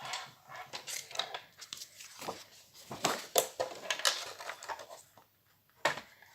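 Paper knife scoring fold lines into card stock for a folded Easter chocolate box, a run of close, dry scratchy strokes and taps in irregular bursts with brief pauses, no talking.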